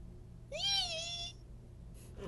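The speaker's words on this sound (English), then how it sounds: "I caught my cat!" A house cat gives one clear, rising-then-falling meow lasting under a second, close and fairly loud against a quiet room, followed by a faint rustle.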